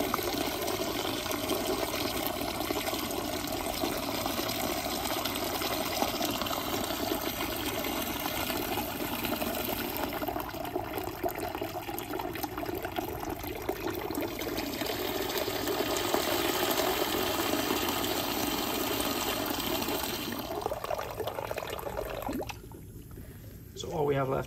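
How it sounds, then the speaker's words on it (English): Water poured to rinse a beaker during a lab filtration, a steady broadband trickle and splash running continuously for most of the stretch before fading near the end. "we will use a little bit more water, rinse the beaker to make sure that we have all of our precipitate"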